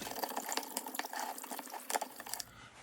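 Broth sloshed around a hot pot while deglazing after browning pork baby back ribs, giving a quiet, continuous liquid swishing with small splashy bursts and faint scraping, fairly close and alone.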